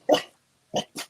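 Dogs bark in three short sharp bursts, one followed by a pause and then two quick barks close together, fairly loud and near.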